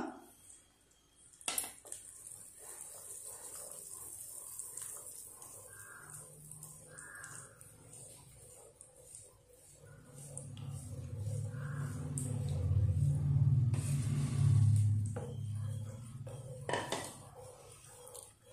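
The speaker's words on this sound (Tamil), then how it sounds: "நல்லா கைவிடாம கிண்டிட்டே இருங்க" Mysore pak batter of gram flour stirred continuously in a pan over a medium flame, with scraping and metallic clinks of the spoon against the pan and a low bubbling rumble building in the middle, no voices.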